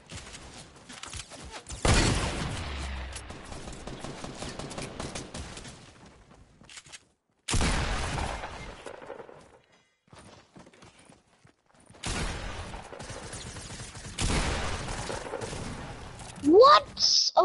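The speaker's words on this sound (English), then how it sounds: "We're getting shot at." Gunfire in a Fortnite duos match: bursts of rapid shots come and go in several loud clusters separated by near silence, with a few sharp electronic effects near the end.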